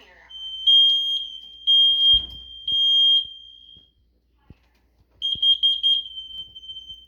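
A combined smoke and carbon monoxide detector sounds its test alarm: a piercing high-pitched beep pattern in short repeated bursts, a pause, then another burst, close up.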